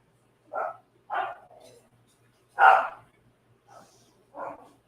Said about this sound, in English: As we get the dogs going bananas here.